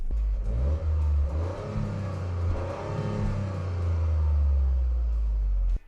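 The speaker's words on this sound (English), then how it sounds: "All you hear is the fake engine noise that comes through the speakers of the car." Toyota GR Yaris engine revving, with its synthetic engine note piped through the cabin speakers; a steady, loud low drone with rising and falling revs for about six seconds, no talking.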